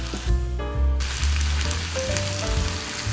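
Water poured into a hot frying pan on a home stove, a sharp burst of sizzling and hissing that settles into a steady fry with faint tonal clinks, loud and close with no one talking.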